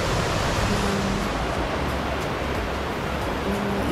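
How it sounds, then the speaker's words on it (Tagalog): A river rushes along a mountain trail on Mt. Kulago in Bukidnon, a steady, broad wash of flowing water that fills the scene evenly from start to finish, with no pauses. "yung tunog ng nature, para yung ilog"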